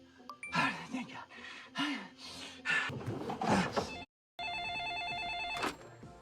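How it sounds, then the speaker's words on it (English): A telephone bell in a Buffy the Vampire Slayer fan revival rings in a steady trilling burst after rustling and breathy voices, clear and fairly close, following a brief silence. "Phone has been ringing for like 2 hours."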